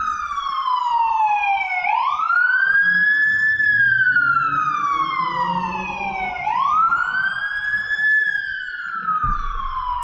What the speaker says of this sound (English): There's a ambulance.